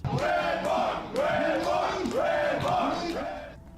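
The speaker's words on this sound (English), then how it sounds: "he began riling up the crowd before the show even started" A large crowd roars and cheers in loud, sustained waves at a roast battle show, with bellowing voices rising and falling continuously throughout.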